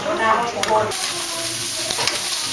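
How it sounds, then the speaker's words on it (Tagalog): Snails sautéing in a pan with onion, butter and garlic, giving a steady loud sizzle with occasional stirring scrapes and clinks. The frying runs throughout. "Ayan na yung kuhol na ginisa with sibuyas, Butter. butter, tsaka bawang."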